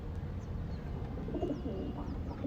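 Pigeons just released from their coop cooing, low soft murmuring calls close by under constant background noise, with a few faint higher chirps.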